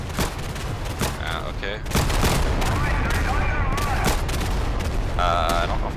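Carpet-bombing explosions and gunfire in the World War II shooter Day of Infamy: a rapid string of loud booms and cracks, then a heavy rumbling barrage, with a brief spoken word.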